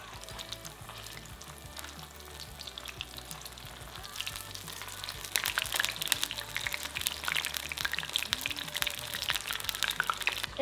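Paneer cubes coated in cornflour deep-frying in a pot of oil for chilli paneer, with continuous crackling sizzle that grows louder and busier halfway through as more pieces go in.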